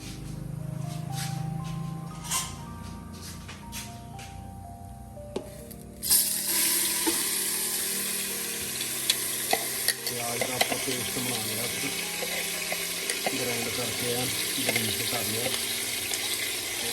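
Grated onion drops into a pan of goat meat and fries with a sudden loud sizzle about six seconds in, followed by steady hissing and scraping stirring. Quieter kitchen tones come before it.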